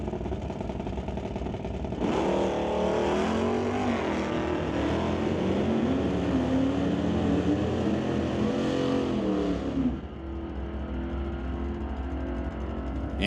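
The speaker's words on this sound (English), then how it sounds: "Douglas and Ray facing off on the ever popular Dodge versus Chevy grudge match" Dodge and Chevy drag race cars roar down a quarter-mile strip at a grudge match, a loud sustained engine blast with rising pitch as they accelerate, cutting off abruptly near the end.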